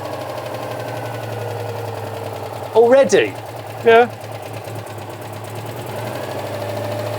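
A barn-find classic car engine idles steadily off choke with a low, even, quiet hum and fine rapid ticking, while two people briefly exchange a few words over it.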